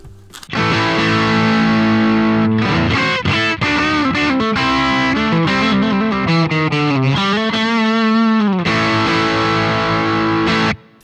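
Electric guitar played through a BOSS GT-1000 X-Modded distortion amp model rings out loud and heavily saturated, with strummed chords and sustained bending lead notes, cutting off abruptly at the end.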